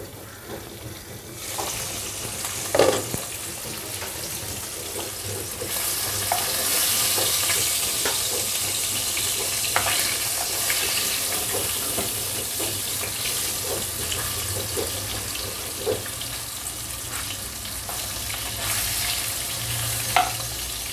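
Food frying in a pan gives a steady, close sizzle that runs throughout, with occasional sharp clicks and stirring knocks rising above it and no voices.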